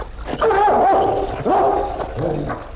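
A dog barks and growls close by, a few harsh bursts with whiny, yelping tones between them over a noisy background.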